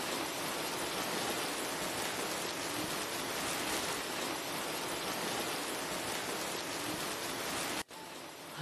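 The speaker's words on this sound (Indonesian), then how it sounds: "hujannya gede banget ya iki" Heavy rain pouring steadily in a village setting, a dense, loud, even hiss of drops that runs almost unbroken and drops off briefly near the end.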